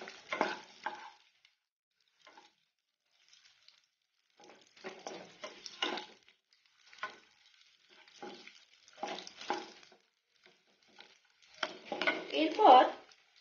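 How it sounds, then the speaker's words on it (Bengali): Raisins being stirred into raw papaya chutney in a pan, with intermittent bursts of scraping and stirring separated by quiet gaps, growing busier and louder toward the end. "আর দিয়ে দেব কিশমিশগুলো। আবারও একটুখানি নেড়ে নেব।"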